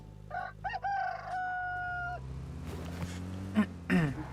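A rooster crow sound effect plays during a PUBG Mobile game stream: one drawn-out cock-a-doodle-doo up front, followed by quieter game noise and a couple of brief clucks.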